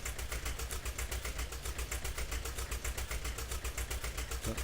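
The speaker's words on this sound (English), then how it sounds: "The famulus LPG tractor." The Famulus LPG tractor in Farming Simulator 17 idles steadily, its engine giving a close, even, rhythmic chug that continues without change throughout.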